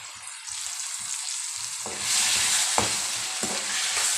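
A spoon stirs red chili powder, turmeric and tomato in a hot pan for chana dal with radish greens, a steady sizzle running underneath and scraping strokes growing louder near the end.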